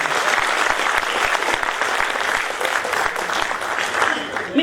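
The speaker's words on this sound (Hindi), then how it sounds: "एक बार सर के लिए सम्मान में एक जोरदार ताली होनी चाहिए।" Loud, dense applause from an audience at a Hindi hasya kavi sammelan, a comic poetry gathering, sustained and steady throughout with no voices standing out.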